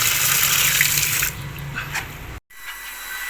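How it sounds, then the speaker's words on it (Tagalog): A Mitsushi 0.5 hp electric water pump pushes water in a steady, loud rushing hiss, softening partway through and cutting out for a moment before the flow resumes. "ay maayos naman itong water pump na nabili natin. Gumagana siya ng maayos at malakas yung higop niya."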